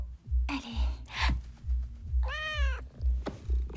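A cat gives one clear, drawn-out meow in the middle, surrounded by soft breathy sounds and faint rhythmic low thumps, close and quiet overall.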